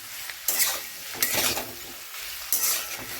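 Vegetables for chilli garlic prawn sizzle in a pan while being stirred, with three sharp bursts of scraping and clinking utensil strokes over a steady frying hiss, close and without talk.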